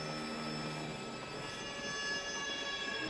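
A train rolls along steadily in the 1980 horror film Terror Train, a continuous rumble of wheels and carriage noise with faint high metallic whine, filling the whole stretch without talk.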